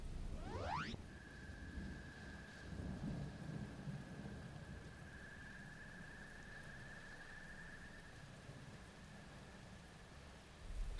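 Steady rain hisses throughout while thunder rumbles low, with a brief rising squeal near the start and a long faint tone sustained beneath the downpour.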